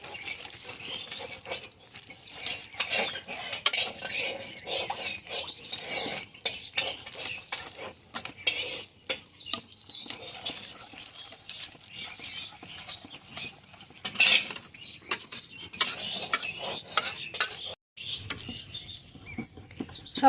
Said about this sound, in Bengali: একটা হ্যান্ড উইচ দিয়ে সব কিছু মিক্সড করে নেব।